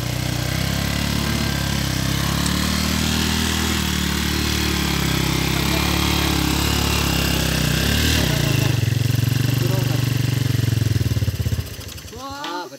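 Motorcycle engine revving and straining on an extreme dirt track race course, a loud continuous drone that drops off near the end, with people talking and shouting over it.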